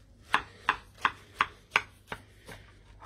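Wild garlic is chopped with a knife on a board in an even rhythm of about seven crisp, close chops, and the last few strokes grow softer.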